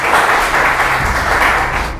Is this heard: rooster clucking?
no